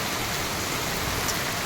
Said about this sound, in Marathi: तुम्ही बघू शकता बनारसी गलियामध्ये पाऊस पडतोय.